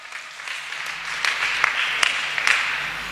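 A congregation at a Sunday church gathering applauds with scattered, uneven claps that build into a steady patter and hold for several seconds.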